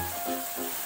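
Soybean tikka frying in a pan gives a short, steady sizzle with a faint hiss, heard alone without talk.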